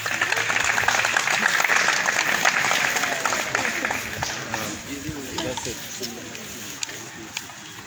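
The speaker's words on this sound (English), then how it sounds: "A round of applause for Dr. Sampa" An audience applauds in a campus press-briefing room for resident doctors' association president Dr. Brian Sampa, steady clapping at first that thins out over the final seconds.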